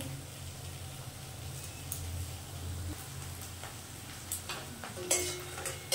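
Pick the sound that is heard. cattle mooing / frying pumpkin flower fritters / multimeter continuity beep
frying pumpkin flower fritters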